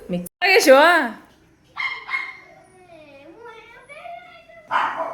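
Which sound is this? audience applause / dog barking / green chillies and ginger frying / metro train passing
dog barking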